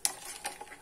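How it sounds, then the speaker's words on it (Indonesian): A spoon stirs Nescafe Classic instant coffee with sugar and a little water in a cup, giving soft scraping and clinking strokes up close over a short stretch, with no talking. "Ini kita aduk ya guys"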